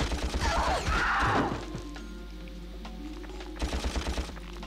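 Rapid game gunfire and crashing impacts from a Ratchet & Clank boss fight, a noisy burst of shots at first that fades into mechanical hum, then another flurry near the end.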